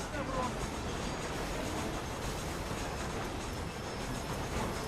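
Train riding along tracks in Red Dead Redemption: a loud, continuous rumble of rolling wagons with rhythmic clatter and a faint metallic edge, steady throughout with no voices.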